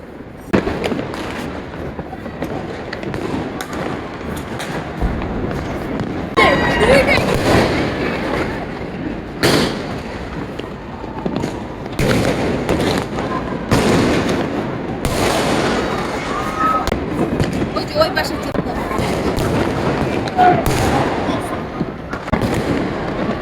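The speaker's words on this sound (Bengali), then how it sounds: "হাজার হাজার টাকার ফানুস, এই আতশবাজি" New Year 2024 fireworks explode in loud, irregular bangs and crackling bursts, some overlapping, above a constant background rumble.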